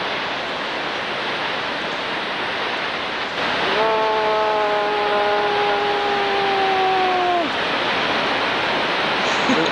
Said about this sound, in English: Another trip down the waterfall.